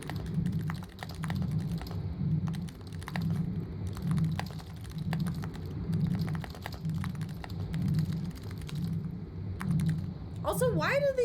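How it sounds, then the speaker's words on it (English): Squishy computer keyboard keys in the game Dead Letter Dept. are typed in quick, uneven runs of soft clicks over a steady low droning hum, with a brief warbling tone near the end. "why do these keys sound so squishy?"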